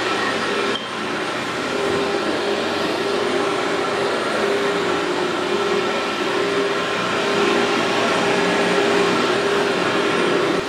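Steady, loud roar of a vacuum cleaner running continuously across a home carpet during a cleaning job, with a brief dip near the start and no talking.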